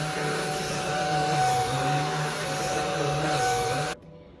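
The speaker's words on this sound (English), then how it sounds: "I use my little vacuum to vacuum off all the cat hair." A small handheld vacuum cleaner runs steadily while sucking cat hair off a bed, a close, continuous whine with a strong tonal hum that holds for about four seconds before cutting off abruptly.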